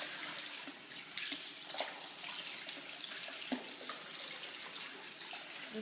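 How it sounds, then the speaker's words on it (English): Water runs steadily from a faucet while hair is washed at home, a continuous hiss and splash with small fluctuations and occasional drips, close by and with no talking. "Try the bathroom faucet."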